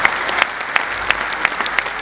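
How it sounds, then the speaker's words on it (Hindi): Audience clapping at a Hindi comedic poetry gathering (hasya kavi sammelan), a sustained wash of applause from a modest crowd with a few sharp, regularly spaced claps standing out near the front. "15-20 लोगों ने ताली बजाई है"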